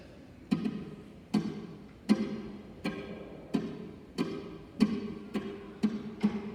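Steady rhythmic soft taps, about nine evenly spaced finger flicks against the knee, close and fairly quiet, each with a short dull thud and a brief decay.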